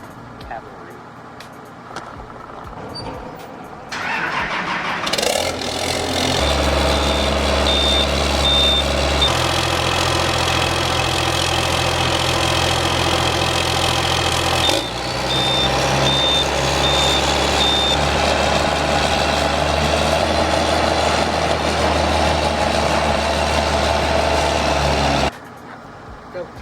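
A truck engine idles and runs while reversing beeps repeat steadily, moving a farm sprayer on a rural property; the loud engine drone continues for over twenty seconds with a voice heard faintly over it.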